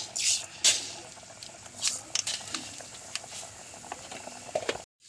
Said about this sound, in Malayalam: എണ്ണ ചൂടായി കടുക് ഇടുന്നു